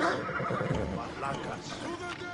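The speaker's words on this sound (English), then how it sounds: "Untamed horse." An untamed horse in a video game whinnies loudly with a wavering, shaky neigh, close and clear, with faint hoof clatter in the background.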